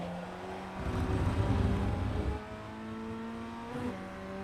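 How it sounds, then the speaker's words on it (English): A Formula Ford 1600 in iRacing at Navarra Speed Circuit downshifts to second gear under braking, the engine note dropping and rising in a short loud burst of revs over a steady background drone. "dropping it down to second gear."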